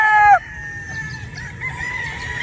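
Broodstock chickens on a farm give a short sharp call at the start, followed by softer clucking and faint background fowl noise, with no one speaking.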